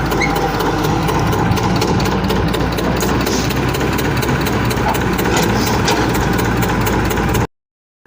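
Hitachi excavator at a bridge demolition, its diesel engine droning steadily and loud at close range with a low heavy rumble and faint mechanical clatter, continuous for about seven seconds before cutting off.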